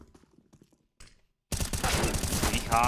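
Counter-Strike match gunfire erupts abruptly after a brief quiet stretch with faint steps, becoming a loud continuous burst of rapid rifle shots and clattering fire.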